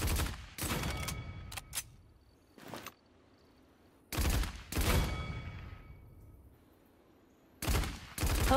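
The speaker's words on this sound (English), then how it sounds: "Oh, nice shooting." Gunfire rings out in the fantasy shooter game Paladins, with sharp, loud bursts of rapid shots in several separate volleys and quiet gaps between them, including a short single burst and longer sustained strings of fire.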